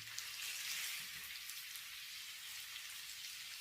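Three mutton seekh kababs fry in a pan over low heat, giving a steady, close hiss of sizzling fat that stays even throughout with no talking.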